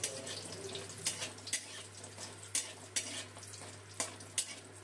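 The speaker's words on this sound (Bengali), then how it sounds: "বড়িটা লাল করে ভেজে নেব।" Black gram lentil dumplings fry in hot oil left from frying fish, giving a steady sizzle broken by regular scraping stirs of a spoon in the pan.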